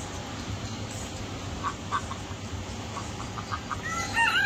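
Chickens cluck in short, scattered bursts against a constant background hum at a naturopathy ashram, with a rooster's call rising near the end.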